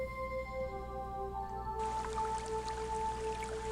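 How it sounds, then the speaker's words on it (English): A soft watery splash and trickle from a Higurashi visual novel game comes in partway through, low in level under sustained tonal background music. "Oh, it's the water sound effect."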